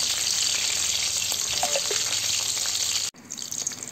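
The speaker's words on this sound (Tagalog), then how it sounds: "prituin na natin lahat ng natitirang Shanghai" Lumpiang Shanghai spring rolls fry in hot oil with a steady close sizzle. After about three seconds it briefly cuts out and then resumes with lighter bubbling.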